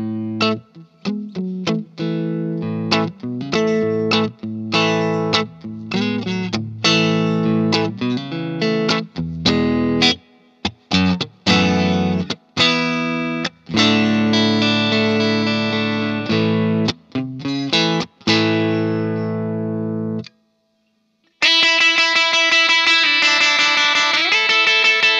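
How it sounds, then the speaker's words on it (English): Clean electric guitar played through the normal channel of a Vox AC30 Custom amplifier, loud chimey chords and picked notes ringing with short pauses, then a brief silence before a brighter passage. "Let's start off by hearing the smooth, chimey clean tones from the normal channel."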